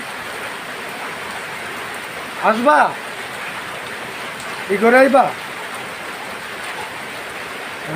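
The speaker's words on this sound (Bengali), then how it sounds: "বৃষ্টির জন্য যেতে পারতেছি না বৃষ্টি যেহেতু একটু বেশি" Heavy rain falls steadily as a dense, constant hiss close by, with a person speaking briefly twice over it.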